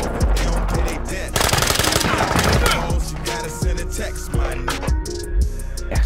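Automatic gunfire from Call of Duty Modern Warfare 2 beta Team Deathmatch on the Breenbergh Hotel map, Xbox Series X: loud, rapid bursts of machine-gun fire crowd the whole stretch, mixed with other close combat noise.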